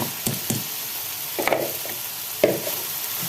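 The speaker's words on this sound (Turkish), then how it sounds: "Pirincimi iyice kavuracağım arkadaşlar." Rice being toasted in a pan for a Peking duck dish: a soft sizzle broken by a few short scraping stirs, close and moderately loud, with no voices.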